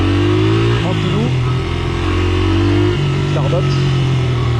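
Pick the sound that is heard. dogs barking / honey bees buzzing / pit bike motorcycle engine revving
pit bike motorcycle engine revving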